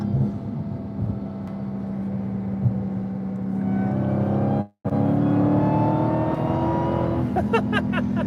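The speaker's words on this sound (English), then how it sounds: "And I just love that sound. That Supercharger 1 is so amazing." A 2022 Dodge Challenger SRT Jailbreak's supercharged engine revs, sustained and loud with a high supercharger whine, broken by a brief silent gap before the roar resumes and rises.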